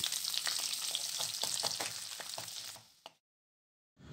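Sliced garlic sizzling in hot oil for a tempering, a steady bright crackle with frequent spatters and stirring clicks, close and loud, before stopping abruptly near the end.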